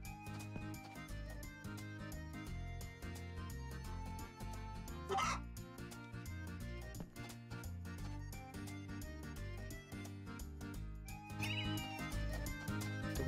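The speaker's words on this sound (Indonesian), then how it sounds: "Itu kucing, mana kucing?" A cat meows twice in the farming video game Story of Seasons: A Wonderful Life, short calls rising over steady looping game music and sound effects.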